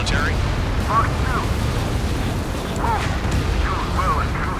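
Explosions in Ace Combat 7 during a pipeline destruction mission, a steady low rumbling roar throughout, with in-game radio voices chattering over the blasts.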